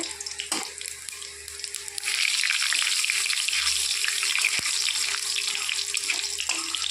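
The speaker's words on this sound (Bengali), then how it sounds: "মাছ ভাজা আর ওই তেলের মধ্যে দিয়ে দিচ্ছি সাদা জিরে" White cumin seeds sizzling in the hot oil left from frying fish, a close, steady crackling hiss that swells after two seconds and carries on, with a faint hum underneath.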